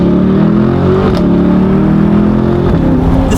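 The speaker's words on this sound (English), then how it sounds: "The pops and the shifts is much more aggressive now." A Corvette C8 fitted with a titanium exhaust revs hard and close, its engine note climbing and dropping in a loud, steady, continuous roar with no talk over it.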